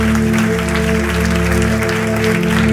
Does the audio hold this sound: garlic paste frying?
no